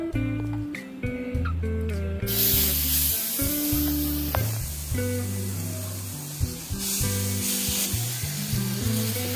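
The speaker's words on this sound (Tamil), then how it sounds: "இப்ப நான் கல்ல வச்சுட்டு அதுல வந்து கொஞ்சம் எண்ணெய் விட்டு தேய்ச்சிருக்கேன் இப்ப நம்ம வந்து மாவு விட்டுடலாம்" Rava uttapam batter hitting a hot, oiled griddle, setting off a loud, steady hiss that holds on close by with a few scraping touches, no talking over it.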